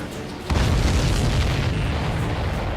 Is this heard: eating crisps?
no